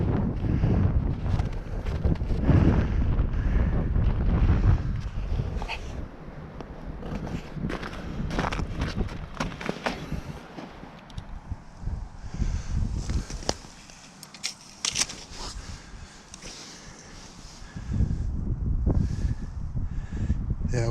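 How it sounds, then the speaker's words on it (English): Strong wind gusting outdoors on open ice while fishing, roaring and buffeting the microphone throughout with occasional footsteps, easing briefly before surging again. "It's pretty windy out here today."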